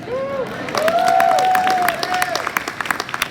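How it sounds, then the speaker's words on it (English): Applause and some cheering from a crowd at a county State of the County address, with a long sustained whoop rising above the clapping before the hands taper off into scattered claps. "Thank you for that applause"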